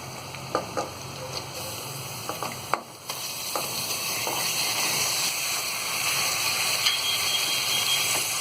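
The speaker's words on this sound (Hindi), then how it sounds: "अब इस प्याज में हम ये धुला हुआ मटन डाल देंगे।" Washed mutton is dropped into lightly fried onions in a pan for mutton do pyaza, with a few sharp clinks, then a loud, steady sizzle that swells and holds.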